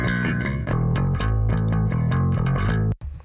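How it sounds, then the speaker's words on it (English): Distorted bass guitar riff recreating a metal song, played loud and steady with rhythmic picked notes for about three seconds, then cutting off abruptly near the end. "This is the bass guitar."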